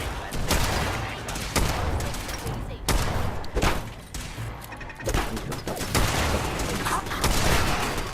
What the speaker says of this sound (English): As you can see, we've now switched to the pistol as well